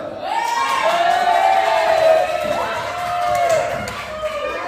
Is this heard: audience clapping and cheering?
yes